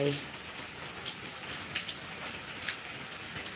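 Steady rain patters across a surface in a close, even wash of hiss with scattered drop streaks, and a brief voice murmur at the start.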